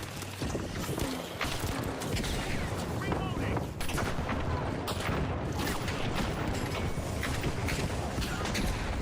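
A gun firing in The Finals: loud, continuous gunfire and shots packed tightly over a busy game soundscape for the whole stretch, with a voice talking underneath.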